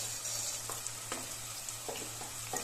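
Red chili powder, coriander-cumin powder and garlic paste sizzle in a hot frying pan for a corn-capsicum dish, a steady loud fry broken by several scraping stirs of a spoon.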